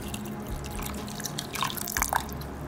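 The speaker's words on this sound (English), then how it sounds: "I'm just gonna add a bit more water" Water splashes and trickles in short bursts as it is poured over sea moss in a container, with dripping, liquid sounds close by and a low background hum.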